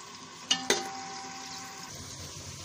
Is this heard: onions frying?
yes